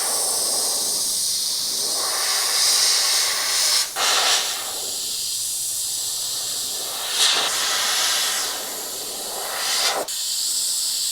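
Airbrush spraying paint onto an aluminium composite panel, a steady close broadband hiss in three long bursts with brief pauses near four, seven and ten seconds; no talking.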